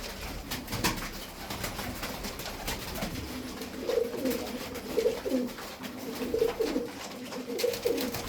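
Sütbeyaz pigeons coo in a loft, a run of soft, low, repeated rolling coos that come in clusters from about the middle of the clip onward, with faint background rustle and no talk.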